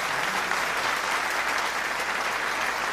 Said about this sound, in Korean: 여러분 다시 한번 큰 감사의 박수를 보내주시면